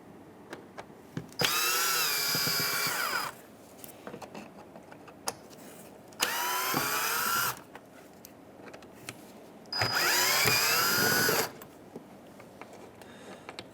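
Three bursts of a power drill back out Phillips screws from the front grille of a 2015–2019 Hyundai Sonata. Each whirring run lasts one to two seconds, with handling clicks in the pauses between.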